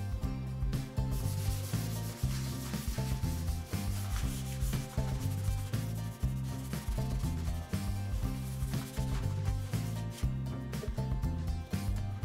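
Rhythmic back-and-forth rubbing of 240-grit sandpaper on a kitchen unit surface, close and steady, repeating strokes throughout.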